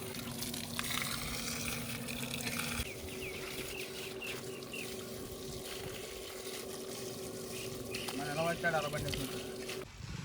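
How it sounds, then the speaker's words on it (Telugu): Water gushes from a borewell pipe in a continuous, splashing flow at close range, with voices talking over it and a brief shift in the pour partway through. "ఇక్కడ పైప్ లో నీళ్ళు కూడా స్టార్టింగ్ చాలా వేడిగా ఉంటాయి"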